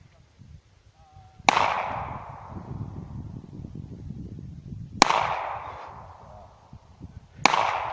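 Three loud, sharp gunshots from a handgun during shooting practice, spaced a few seconds apart, each with a ringing decay over a low background rumble.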